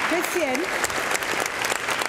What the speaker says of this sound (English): So if you could please give him a round of applause.